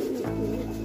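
A male Kalanka pigeon for sale gives a short, low, soft coo, close by and heard alone.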